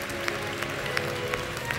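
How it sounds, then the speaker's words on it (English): Church congregation clapping hands in praise during worship, a dense crowd clapping with a few sharper accents over a steady murmur of sound. "Clap your hands and praise him,"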